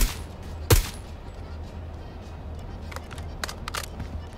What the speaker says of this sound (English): Just keep shooting, just keep killing them.